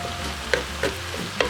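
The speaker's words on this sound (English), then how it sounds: "I like to saute the vegetables a little bit before I start the soup because it seals in the flavor" Vegetables for potato leek soup are stirred and sauteed in a pan, giving a soft steady sizzle broken by three sharp utensil scrapes spaced about every third of a second, close and without speech.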